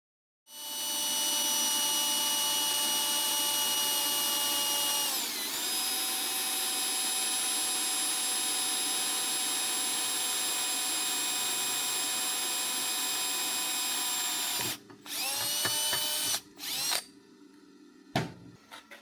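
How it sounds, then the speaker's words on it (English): A loud, sustained whine from a power tool grinding a flat spot on a steel pin, running steadily, dipping once in pitch, then stopping and restarting in short bursts near the end as it drills through. "I'm just going to grind a small flat spot on here and drill a hole through it"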